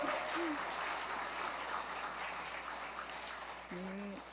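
An audience at an Advent lecture by a nun in a Korean church setting gives sustained applause, a dense, even patter of clapping that fades slightly toward the end.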